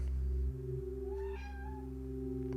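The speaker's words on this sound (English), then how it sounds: "My cat's really gone crazy." A pet cat gives a single rising, drawn-out meow, faint and somewhat distant, over a steady hum of background music and game sounds.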